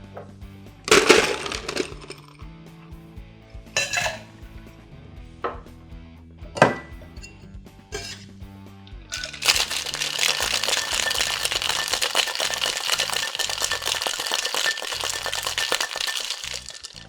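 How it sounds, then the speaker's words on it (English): Ice rattles hard in a cocktail shaker, starting with a few scattered cracks and clinks as cubes drop in, then a steady, dense rattle of continuous shaking for several seconds. "Next, we're going to add some ice and then shake it up a little bit."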